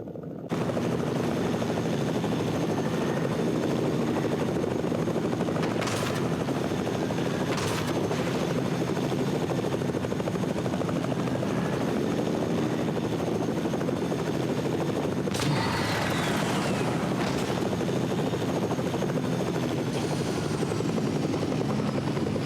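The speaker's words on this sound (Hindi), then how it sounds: "तो मैं हेलीकॉप्टर लेके बस ढूंढ रहा होता हूँ" Helicopter flying in Fortnite mobile, a loud steady rotor and engine drone throughout, close and constant, with a few brief sharp bursts like distant gunfire cutting in.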